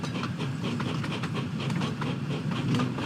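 Train in a railway video game rolling into a station platform, with a steady rumbling, clattering wheel noise and hiss that carries on evenly throughout, no voices.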